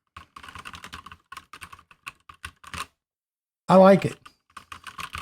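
Typing on a Redragon K556 Devarajas mechanical keyboard with linear red switches, bursts of light clattering keystrokes in quick irregular runs, close up, with a short spoken phrase between them.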